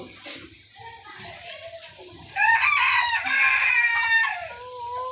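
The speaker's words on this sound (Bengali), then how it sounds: "আমার এই পাশে কিছু মোরগ রয়েছে, এই পাশে মুরগি রয়েছে।" On a fancy poultry farm in Rajshahi with Colombian Brahma chickens, a rooster crows loudly nearby in a long drawn-out call while hens cluck around it.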